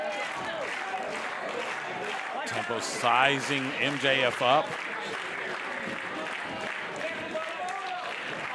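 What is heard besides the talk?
wrestling crowd cheering and applauding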